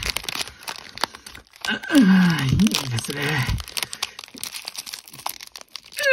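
Crinkly plastic rustles and crackles in short bursts as a stiff Bikkuriman chocolate wrapper is handled and tugged, with a person speaking briefly in Japanese over it.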